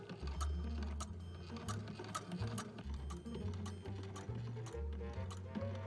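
A sewing machine stitches bodice pieces together along a side seam for an 1890s-style bathing costume, running in short steady bursts with brief pauses and a light ticking rhythm, close up and with no speech.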